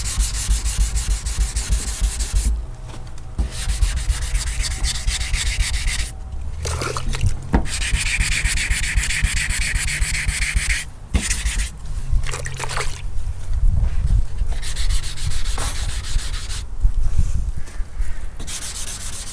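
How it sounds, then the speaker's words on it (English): Wet sanding car body primer with a 320-grit sanding block, a steady raspy rubbing in long repeated strokes with brief pauses between passes, close and fairly loud. "Now we're gonna take our block with 320 on it, go around and hit all our areas,"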